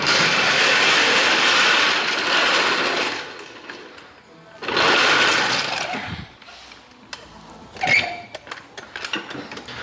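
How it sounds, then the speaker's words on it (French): Impact wrench loosening the driveshaft on a Peugeot 206 front axle, loud sustained hammering bursts, a long one then a shorter one, followed by scattered clanks and tool knocks. "Moi je le fais à la clé à choc, mais on peut le faire à la croix."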